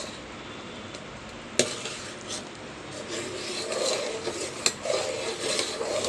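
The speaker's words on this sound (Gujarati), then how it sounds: "આવી રીતે સતત હલાવતા રહ્યો તો નીચે ચોંટે નહીં" Ghee made from butter is stirred steadily in a pot, a continuous scraping rasp of the spoon over a soft sizzling simmer, with two sharp clinks against the metal rim.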